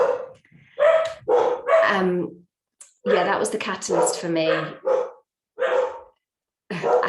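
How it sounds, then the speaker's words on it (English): Dogs bark in short bursts in the background, breaking in between and under a person talking indoors. "I have to apologize for my dogs in the background."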